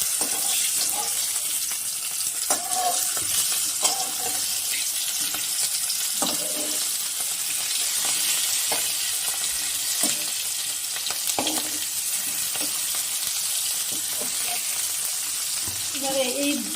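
Stuffed teasel gourd (kakrol) filling frying in a pan, a continuous soft sizzle with occasional light scrapes and knocks of a utensil, close and steady throughout.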